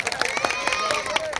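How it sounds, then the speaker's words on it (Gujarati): A crowd at a Koli community rally clapping for Babuda Bhaliya, a dense burst of hand claps rising around a voice that speaks over it. "બાબુદા ભાલિયા માટે જોરદાર તાળીઓ થઈ જાય મિત્રો"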